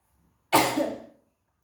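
A single close, sharp cough from a woman, starting abruptly and trailing off within about half a second, with silence before and after.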